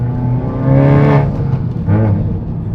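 Honda Civic Type R FK8 engine revving from inside the car as it shifts quickly from first to second gear, a loud rising whine that drops briefly and climbs again.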